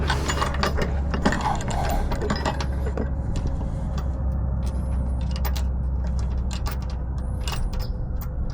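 Ratcheting tool tightening a 10mm bolt on Hansshow running boards (side steps) on a Tesla Cybertruck, a steady run of fast metallic clicks that continues without pause, close and fairly loud, with no talking.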